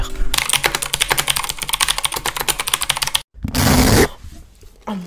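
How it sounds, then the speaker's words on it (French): Rapid, loud clicky keystrokes on a Keyz Carbon E mechanical keyboard with blue switches in a steady rhythm, then a pause and a burst of louder clacking. "il est bien bruyant, bien mécanique, mais c'est pas un bruit super dérangeant"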